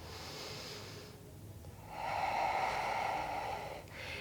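Deep, steady exhalation in a prenatal yoga breathing exercise using the de Gasquet method, a soft breathy rush that swells after a brief pause and holds for about two seconds, close and alone.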